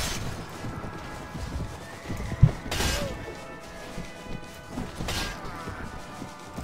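A mule in the Mount & Blade: Warband video game: steady clip-clopping hooves and the rumble of riding fill the clip, with two loud whinnies breaking through, one near the middle and one toward the end.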